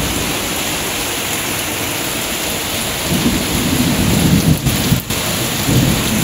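Heavy rain pours loudly and steadily in a village thunderstorm, with gusting wind and a deep rumble building midway, forming a dense, close wash of sound.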